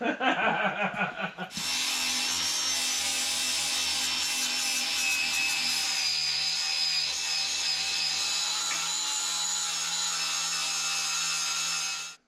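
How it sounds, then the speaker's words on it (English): A power tool sands metal leaf spring brackets for a Jeep suspension swap on a Chevy truck, a loud, steady abrasive grinding that starts after a brief stuttering lead-in and holds for about ten seconds before cutting off. "So I guess I'm going to have to sand them down."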